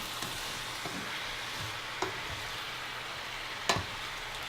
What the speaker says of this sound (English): while our cabbage is still tenderizing and braising